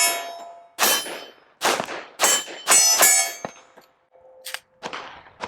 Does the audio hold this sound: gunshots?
yes